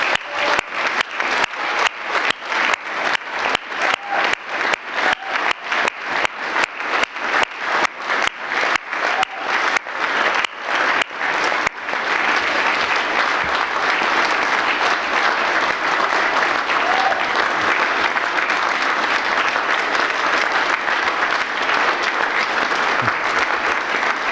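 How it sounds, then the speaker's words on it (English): A large crowd at a university degree ceremony in Dublin bursts into applause, rhythmic clapping at first that swells into a loud, sustained wash of clapping. "join me in giving them one last huge round of applause"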